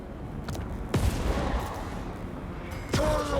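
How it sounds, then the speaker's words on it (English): Skull cannons in the video game Total War Warhammer 3 fire in two heavy booming blasts about two seconds apart, each followed by a rumbling tail over constant battle noise. "I love skull cannons, dude."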